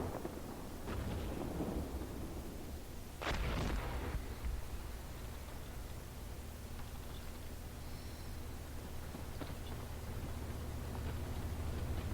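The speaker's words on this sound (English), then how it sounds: "We're taking fire here." Incoming fire in the Steel Beasts Pro tank simulation game: a few dull distant booms and thuds, one stronger burst near the start, over a steady low engine rumble with no talk.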